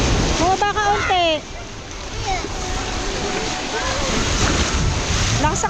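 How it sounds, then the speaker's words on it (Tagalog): Strong ocean waves crash and surge on a beach at Calatagan, Batangas, with heavy wind buffeting the microphone and water splashing, while people shout and talk excitedly over the roar. "Ang lakas ng alon."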